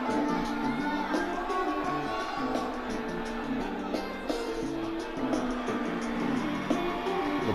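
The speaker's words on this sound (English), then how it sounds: "The crowd is going wild." A large crowd cheers in a wrestling-style arena, a dense, steady roar of many voices at moderate level that carries without a break.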